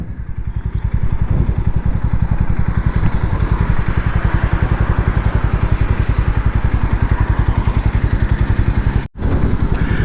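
A Harley-Davidson X440 motorcycle idles loudly and close, its single-cylinder exhaust thumping in a fast, even pulse that holds steady for about ten seconds with a brief dropout near the end.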